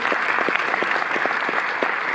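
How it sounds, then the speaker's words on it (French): An audience applauds at the opening of a Darren Aronofsky retrospective at the Paris Cinémathèque, an even, continuous round of clapping filling the hall with no talk. "on peut l'applaudir"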